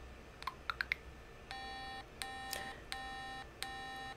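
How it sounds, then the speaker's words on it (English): A LEGO SPIKE hub program beeps repeatedly, starting with a few quick short chirps and then settling into evenly spaced, sustained electronic tones that repeat steadily and clearly, with no voices. "You can hear that the beeps are never going to stop."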